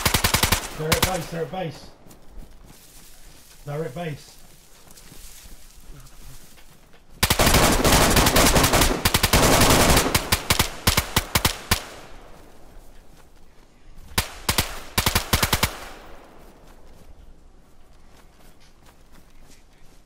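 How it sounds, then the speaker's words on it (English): Gunfire in the DayZ survival game: dense bursts of rapid automatic shots crack close and loud in two heavy volleys with scattered single shots and footsteps between, while someone speaks briefly. "getting shot at, man"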